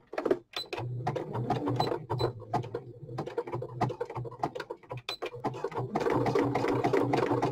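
A sewing machine stitches down folded, slippery swimsuit fabric, giving a close, fast mechanical whirr in short runs and pauses that settle into one longer continuous stretch near the end.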